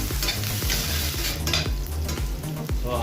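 Onion and garlic sautéing in oil for beef caldereta, a loud, continuous sizzle close by with regular scraping and stirring strokes of a utensil against the pan.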